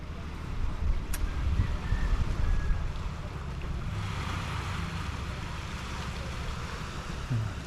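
Waves of clear sea water washing ashore at high tide on Siquijor in the Philippines, reaching past a palm to wooden posts; a steady, close surf wash with wind buffeting the microphone, no talk.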